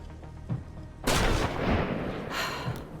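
A single loud gunshot from the video game Deathloop cracks out after a second of quieter game ambience, its heavy blast ringing and rumbling off for the rest of the moment.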